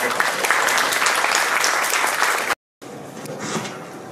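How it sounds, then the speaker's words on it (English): A panel discussion audience gives a big round of applause, loud dense clapping that cuts out abruptly for a moment, then resumes more softly and swells again. "let them give a big round of applause"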